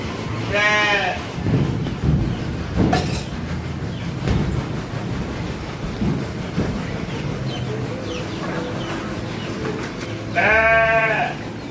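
Sheep in a sheep shed bleat loudly twice, once at the start and again near the end, with farmyard rustling and faint distant calls between.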